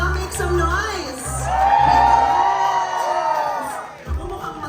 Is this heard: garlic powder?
no